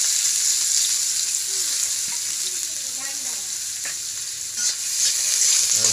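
Onions and green chilies frying in oil in a wok, a steady bright sizzle running throughout with occasional stirring scrapes, fairly close and loud, no talking.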